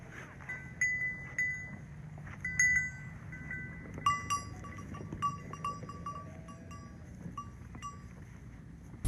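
A flock of sheep and lambs on an Alpine plateau pasture below Ortigara, with scattered bleats and the clink of bells repeating at moderate distance over a low outdoor rumble.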